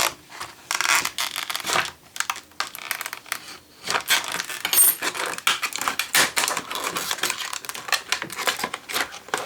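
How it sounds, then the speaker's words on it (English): Plastic packaging around a Hydroseal tap seat replacement kit is cut open with scissors, giving a close, continuous run of crinkling, snipping and crackling. "sealed up in this plastic, so we need to cut it out"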